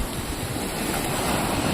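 Large storm-driven waves crash and churn along the shore at Nasugbu, a steady, loud, hissing wash of surf mixed with gusty wind noise close to the microphone.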